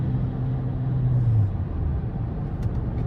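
A 2023 Toyota Crown Limited Hybrid with a 2.5-litre non-turbo four-cylinder hybrid powertrain cruises down the interstate at about 75 mph, giving a steady low road and engine rumble heard from inside the cabin, with no talk.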